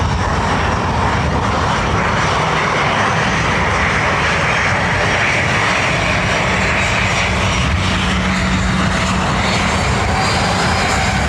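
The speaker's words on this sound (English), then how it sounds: "Nice bit of aero braking there from the Ryanair." A Ryanair airliner lands at Dublin Airport in high wind, its engine roar loud, steady and broadband throughout, holding the nose up during aerodynamic braking on the runway rollout, with no voices.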